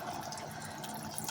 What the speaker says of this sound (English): this is some cold water from the tap